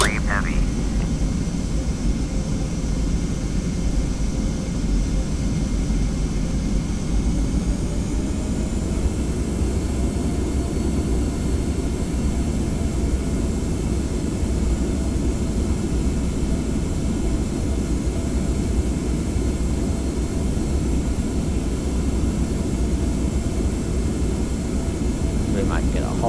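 Boeing 717 jet in the Prepar3D flight simulator taxiing at Sydney, a steady low engine rumble and whine running unbroken throughout, with faint radio chatter underneath.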